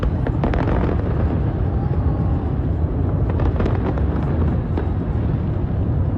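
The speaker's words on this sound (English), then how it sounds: "The flames broke out on the Brooklyn Bridge during the fireworks show." A fireworks show over the Brooklyn Bridge in New York, with a dense, loud rumble that runs throughout and clusters of sharp bursts and crackling pops, some near and some distant.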